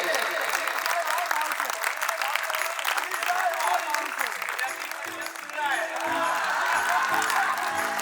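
A large crowd at a Jain pilgrimage gathering claps together in loud, sustained applause that holds steady for about eight seconds, with a brief dip midway.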